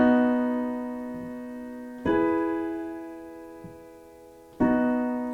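Simple piano chords from a worship song, played plainly: three sustained chords struck a couple of seconds apart, each ringing out and slowly fading, close and clear with nothing else heard.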